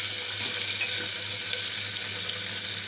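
Chopped onions frying in oil in a pan for chana dal with bottle gourd, giving a steady, even sizzle with a faint low hum beneath and no talking.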